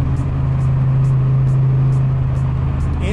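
Turbocharged Foxbody Mustang engine building boost, a steady loud drone with a strong low hum held nearly unchanged throughout, with faint repeated hissy puffs above it.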